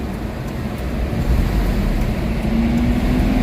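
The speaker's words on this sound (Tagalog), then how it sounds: "papaandarin lang yung makina" A Mitsubishi Adventure engine with throttle delay and low power turns over and settles into a steady low rumble, fairly loud and continuous with no talking.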